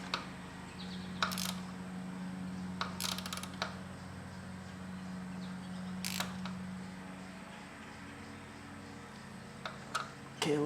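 Ratchet wrench with a spark plug socket clicking on a 5th-generation Subaru Outback engine, giving short bursts of sharp ticks in several separate clusters over a steady low hum, with no talk.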